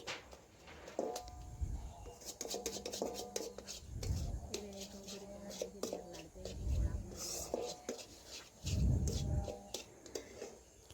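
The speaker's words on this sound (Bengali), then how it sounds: "আমি 2 থেকে 3 মিনিট ভালোভাবে নাড়াচাড়া করে কষে নিচ্ছি" Egg and moong dal being stirred and sautéed in a pan, with scraping and clinking of a utensil against the pan in irregular strokes, alongside soft low thumps and a faint voice in the background.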